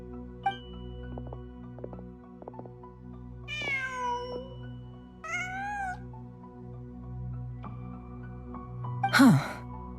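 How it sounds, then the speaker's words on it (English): A cat in Genshin Impact gives a few drawn-out meows, close and clear over a quiet game backdrop, ending in a louder, sharper cry. "Just a cat."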